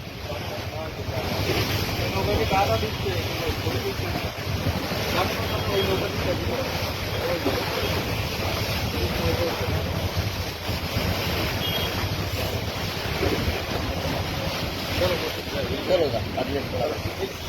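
Waves on a river slap and wash continuously while wind buffets the microphone, a steady close roar throughout, with voices faintly beneath.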